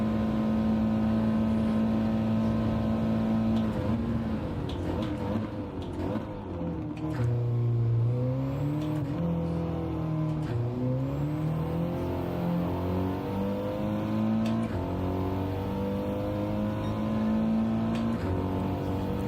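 A virtual Audi race car engine from Gran Turismo 7 drones steadily through a lap, its pitch rising and falling with shifts and corners, loud and continuous with no talk.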